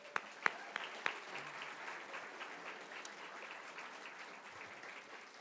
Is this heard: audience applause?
yes